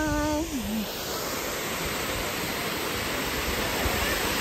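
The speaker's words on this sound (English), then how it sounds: "We've arrived at Waterfall Uno." A waterfall in Wales fills the whole stretch with a constant broadband roar, with a brief cat meow at the very start.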